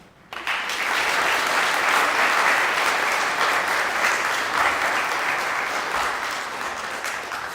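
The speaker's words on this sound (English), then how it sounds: "I would like to take a moment to give a round of applause to all the amazing inductees" A school audience gives sustained, loud applause for National Honor Society inductees at an induction ceremony, the clapping starting abruptly and holding steady before easing slightly toward the end.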